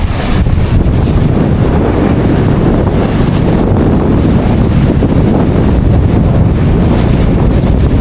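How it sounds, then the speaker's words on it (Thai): Strong wind buffets the microphone at a scenic viewpoint, a loud, continuous low roaring rumble with gusty fluctuations and no talking heard. "ลมแรงมาก"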